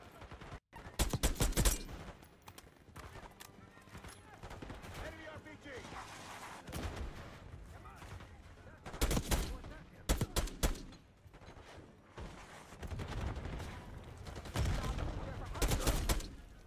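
Sniper rifle fire in Call of Duty Black Ops 6, heard as several loud, sharp shots spread out with pauses between them and a few closer bursts, under background game noise and voices talking.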